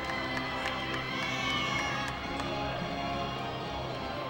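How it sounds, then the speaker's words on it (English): Fans at a RazorSharks home-opener basketball game applauding a made jump shot: a broad wash of clapping and crowd noise in an indoor arena, with faint sneaker squeaks and a few sharp taps over it. "he gets a nice round of applause from the Razor Shark fans"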